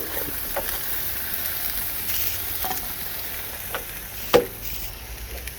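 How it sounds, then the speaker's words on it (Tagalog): Meat sizzles on a barbecue grill outdoors, a steady moderate frying hiss with scattered crackles and one sharper pop near the end, no talking. "Barbecue for dinner."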